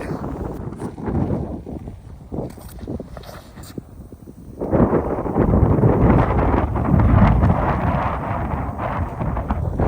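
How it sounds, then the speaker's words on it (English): Heavy wind buffeting a microphone outdoors, rough low rumbling gusts that ease off briefly and then surge into a loud, sustained roar. "That wind is not letting it come back."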